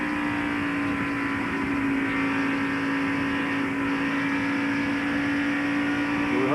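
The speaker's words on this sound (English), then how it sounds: "We heard him lift down the throttle just a little bit." A race car engine at an ARCA SuperCar Series race at Atlanta Motor Speedway roars loud and steady as the driver lifts slightly off the throttle, with a constant buzzing drone throughout.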